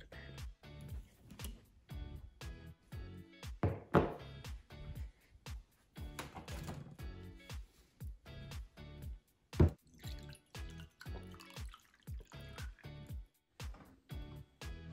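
Water from a tap filling a glass at bedtime, a quiet series of close, rhythmic drips and splashes with small louder bursts, no talking.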